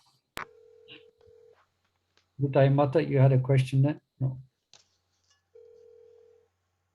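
Telephone ringing tones on a call line sound as two short electronic tone bursts, one near the start and one near the end, with someone speaking briefly between them.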